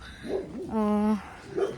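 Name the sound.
dog barking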